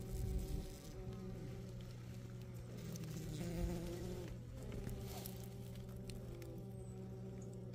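Honeybees at a winter hive in late January, drinking meltwater from ice that dripped onto the hive, give a steady low insect hum with soft buzzing, close and continuous, with no talk.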